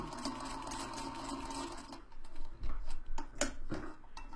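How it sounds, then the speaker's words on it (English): A sewing machine stitches together hexagon patchwork pieces, its quiet steady whirring running for about two seconds, followed by softer clicks and handling noises as the stitching stops. "Put the needle down, make sure you keep your edges even, and stitch on that line."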